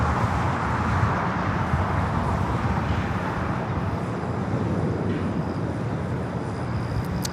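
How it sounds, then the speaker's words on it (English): An Air Tahiti Nui Boeing 787-9 Dreamliner takes off at LAX, a steady broad jet roar heard from a distance with faint wind noise, holding constant throughout. "Let's take off Air Tahiti Nui Flight 8, taking off to Paris on the"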